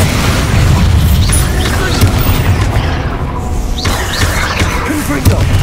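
Bombarda explosion spell going off in Hogwarts Legacy, heavy booming blasts rumbling over dense battle noise, with a voice shouting spells over the din.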